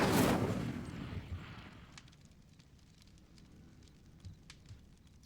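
Casting the Incendio fire spell in Hogwarts Legacy, a loud whooshing burst of flame flares up at once, then fades over a couple of seconds into faint crackles and scattered small pops.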